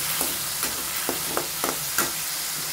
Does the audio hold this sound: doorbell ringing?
no